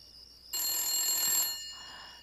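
A telephone rings indoors at night in a family home, a single loud bright electronic ring burst lasting about a second, then fading, with no talk over it.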